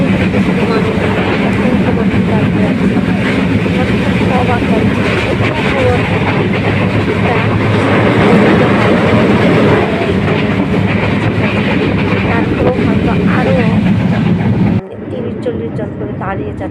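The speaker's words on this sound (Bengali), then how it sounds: "এত বড় ট্রেন, 17টা বগি আছে এই আমি যে ট্রেনতে যাচ্ছি" A crowded 17-carriage passenger train running on rails with steady clickety-clack and a dense rumble throughout, loud and continuous, with voices mixed in; the sound drops abruptly near the end.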